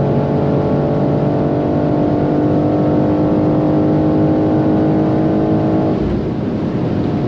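BMW M2 G87 with 450 horsepower accelerating on the Autobahn, a loud steady engine drone holding a constant tone, then easing off near the end.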